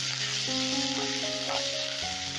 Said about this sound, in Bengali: এবারে দিয়ে দিচ্ছি আদা